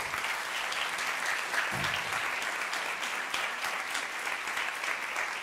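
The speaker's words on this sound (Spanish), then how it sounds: "un aplauso para ellos, por favor" Sustained, dense audience applause fills a hall at a percussion concert, a steady roar of many hands clapping at even loudness throughout.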